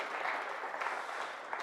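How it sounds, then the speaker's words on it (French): Applause from a tech-talk audience after a presentation on a first fundraising round, a short, fairly faint patter of clapping from a modest crowd. "des applaudissements pour Victor"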